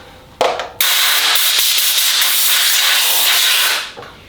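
A Fortress Ultra Quiet 6 gallon air compressor's nozzle blows dust off in a workshop: a short puff, then a loud continuous hiss of air lasting about three seconds before cutting off, heard close and alone.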